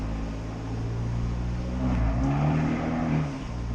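An Abarth 124 Spider's engine idles and then swells into a throaty rev in automatic mode, echoing off the concrete of an underground car park, close and steady with a brief rise toward the end.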